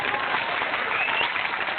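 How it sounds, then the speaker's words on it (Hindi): Audience applause at a Hindi comedy poetry show, a steady wash of many hands clapping that fills the whole moment at even loudness, with no voices over it. "तालियों के लिए बहुत धन्यवाद"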